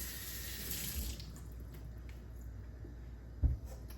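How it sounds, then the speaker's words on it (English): Freshly picked pumpkins with prickly stems are rinsed under a running kitchen tap, a steady close hiss of flowing water with a brief louder splash or thump near the end. "So we'll just wash them up."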